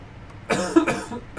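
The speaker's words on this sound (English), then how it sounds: "I'm sorry for coughing so much" A couple of rough, close coughs in quick succession, loud against a quiet background.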